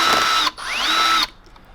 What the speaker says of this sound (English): one at a time, undo these Phillips head screws